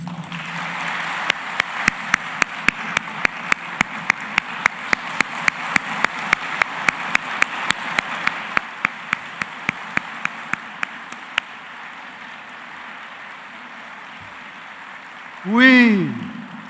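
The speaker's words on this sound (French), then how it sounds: "recevez, au-delà des applaudissements, un standing ovation de votre UNIFA" A university graduation crowd at UNIFA claps in a steady, unison rhythm over a roar of cheering for about eleven seconds, then the noise dies down and a single rising whoop or whistle rings out.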